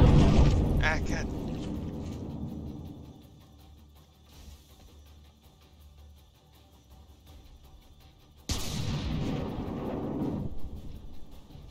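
Battleship shells firing and striking in the From The Depths naval combat game, a deep rumbling boom fading over several seconds, then a sudden second heavy blast that roars on, with a voice talking faintly.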